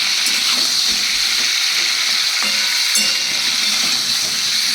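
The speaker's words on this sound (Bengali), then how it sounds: "এবার পটলগুলোকে আমি বেশ একসাথে লাল লাল করে ভেজে তুলে নেব।" Pointed gourd (potol) pieces fry in hot oil in a pan, giving a loud, dense, unbroken sizzle with a few faint knocks of stirring.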